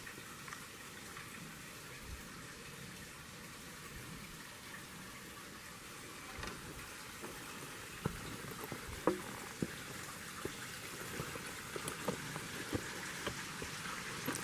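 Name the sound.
waterfall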